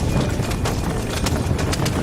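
A horse in the video game Red Dead Redemption gallops during a horse race at a steady, rapid clip-clop, hoofbeats thudding in quick rhythm over a constant background hiss.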